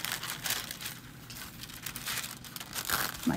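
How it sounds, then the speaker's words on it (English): Scissors snipping through tissue paper during papercraft work, a steady run of close crinkly rustling and cutting sounds with a fan whirring faintly behind. "I'm going to take some scissors, after all, only because it's kind of in the middle, and I'm going to do some general cutting around it."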